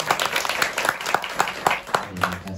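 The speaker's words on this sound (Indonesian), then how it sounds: "Tepuk tangan dulu dong." Scattered, uneven clapping from a small audience at an indoor Islamic study gathering held in an office, close by and fairly soft, with a brief voice toward the end.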